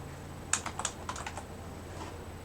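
Quick, close keystrokes clatter on a computer keyboard, about a dozen taps in a short uneven burst that tails off into quiet room hum.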